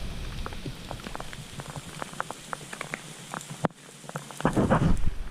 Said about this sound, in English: you can see it's absolutely chucking it down